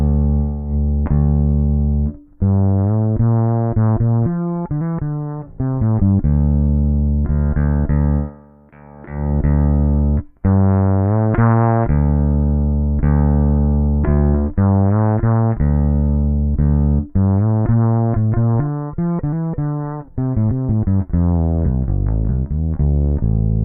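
Bass guitar notes played through a Ghost distortion pedal, steady and loud, with sustained tones and a few brief pauses, alone without talk.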